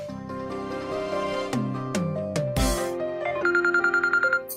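A mobile phone ringtone plays loud and alone as a melodic electronic tune, ending in a quick run of repeated beeps.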